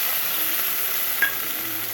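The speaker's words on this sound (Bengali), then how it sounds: "পেঁয়াজ রসুন লাল হয়ে গেছে। এখন দিয়েছি ডাল" Lentils tipped into a pan of reddened, frying onion and garlic, giving a steady close sizzle with a brief scrape of stirring midway, no talking.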